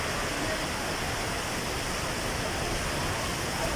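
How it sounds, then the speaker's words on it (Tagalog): Heavy rain pours down in a dense, unbroken roar of hiss that stays loud and even from start to finish, with no voices heard. "Ang lakas ng ulan, nabutan po kami."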